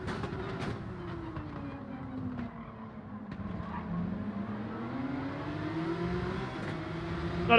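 Race cars in Gran Turismo 7 droning and sliding through a corner, a steady engine whine rising and falling with faint tyre scrub underneath, moderately quiet and without talk.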